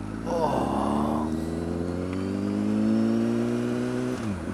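A motorcycle on new Dunlop Sport Smart 2 tyres rides gently through a corner, its engine droning steadily with a smooth rising and falling pitch, close and clear, with a brief voice early on.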